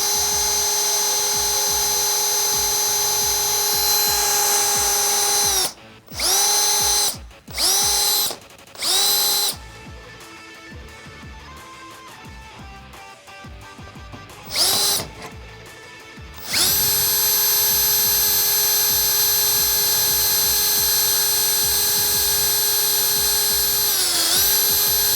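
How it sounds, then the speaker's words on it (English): Power drill boring bolt holes, stepping up to a 7/16 inch bit, for a Smittybilt XRC rear bumper on a Jeep Wrangler YJ/TJ. Loud steady whine, then several short stop-start bursts and a quieter grinding stretch, before another long, even run. "I'm gonna start with a smaller drill bit and work my way up to a 7/16 inch drill bit"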